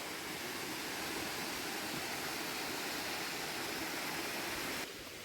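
A natural waterfall in a forest in Sweden, a steady, dense rushing roar of falling water, loud and continuous and close by, with no voices.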